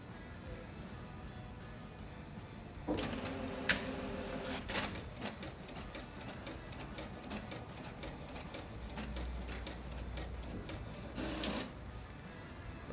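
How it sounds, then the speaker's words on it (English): A printer prints a text document on PaperOne paper, its mechanism whirring and clicking steadily with a few louder feed and carriage sweeps, heard close and alone. "The first test is we're gonna just be printing a text document"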